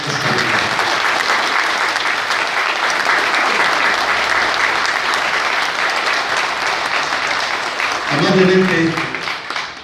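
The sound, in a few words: audience applause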